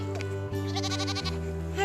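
Miniature goats bleat on a farm, with several close, loud, quavering calls following one another over about two seconds.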